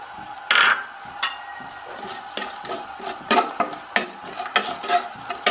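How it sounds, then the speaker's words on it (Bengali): Dried chillies, panch phoron, bay leaves and cardamom fry in hot oil for olive pickle, with steady soft sizzling broken by scraping stirs and a few clinks of a spoon against the pan, close and fairly loud. "এখন আমি এগুলো একটু ভালোভাবে ভেজে নেব"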